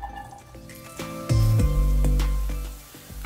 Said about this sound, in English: Now we can go ahead and add our onions.